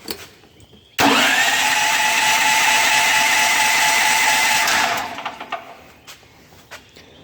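A propane-fuelled generator engine on full choke starts abruptly and runs at a loud, steady roar for about four seconds before cutting back to quieter, sputtering sounds; no talking.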